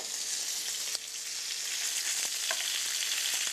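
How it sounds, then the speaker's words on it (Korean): A block of butter melts in a hot pan with browning chicken thighs, giving a loud, steady hissing sizzle with occasional faint clicks, and no talking. "버터를 한 블락 정도 딱 넣어 주신 뒤에"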